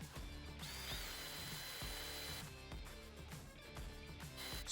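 A Parkside cordless impact driver spins at its lowest speed setting, a close whirring drive broken by repeated clicking, rattling bursts of the impact mechanism.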